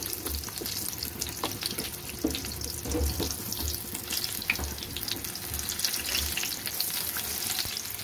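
Eggplant frying in hot oil for a stuffed eggplant chop makes a moderate bubbling sizzle with scattered small clicks and low rumbling handling noises. The sound runs steadily throughout and no voice is heard.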